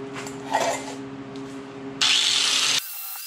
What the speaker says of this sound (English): Take it back over to the sander, see if we can't get her polished up a little bit more.